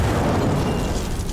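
A fire spell strikes an enemy in Skyrim, a loud roaring, rumbling burst of flame that fills the moment with continuous blasting noise.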